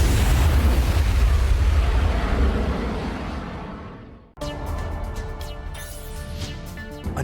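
A missile launch and explosions give a loud, sustained roar of broadband rumble that slowly fades over about four seconds. After a brief silence, a different, steadier rumble with tonal hum follows.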